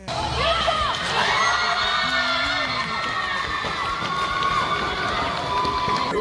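Coaches at a youth sports final let out a loud, sustained championship cheer after the final whistle, a dense crowd of shouting and whooping voices that stays steady and close throughout.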